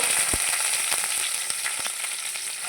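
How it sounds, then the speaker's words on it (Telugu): Cumin, urad dal and curry leaves temper in hot oil, a close, steady sizzle with scattered sharp pops and crackles throughout. "కొంచెం జీలకర్ర వేసాను, కొంచెం మినప్పప్పు అండి, చక్కగా తాళింపు వేసేసుకొని కొద్దిగా కరివేపాకు"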